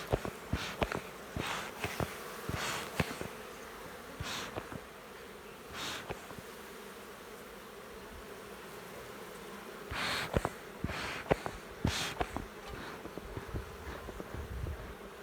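Bees buzz around nearby at a hive being opened with a bellows smoker, individual insects droning past in repeated passes that rise and fade over a quieter background hum, with no talking.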